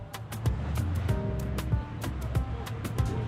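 A boat speeds across open water with a constant rushing roar of hull and wind, broken by repeated sharp slaps and thumps as it bounces over waves.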